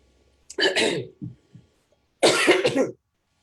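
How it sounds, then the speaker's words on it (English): A person coughs twice, a short harsh burst then a pause, with small throat sounds between, then a second longer cough, close by. "I need to cough, have a drink because of my cough"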